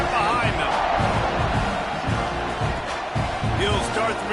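Stadium crowd in a college football video game, a steady loud roar of cheering spectators filling the whole stretch, with a commentator talking over it.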